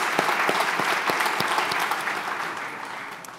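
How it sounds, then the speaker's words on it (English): A conference audience applauds its speakers: dense, steady clapping from a large crowd, loud at first and thinning slightly toward the end, with no voices over it. "I'd actually like to just have everyone give a quick round of applause again to all the great speakers we've had throughout the day."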